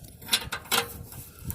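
A wrench works on the oxygen sensor of a 2008 Chevrolet Silverado, giving a few close, quick metallic clicks and ratcheting bursts with short pauses between them.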